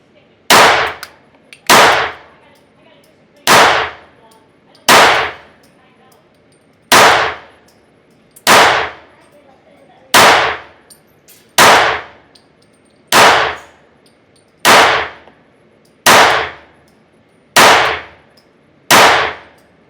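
A Glock 20 10mm pistol fires at a steel target about 7 yards away: roughly a dozen loud, sharp shots, each with a ringing metallic clang, spaced evenly about one and a half seconds apart.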